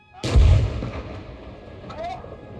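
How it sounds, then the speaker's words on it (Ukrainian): One loud, booming tank cannon shot in the video game GHPC with a heavy low thump, followed by a rumbling decay and a brief whistling tail. "Постріл."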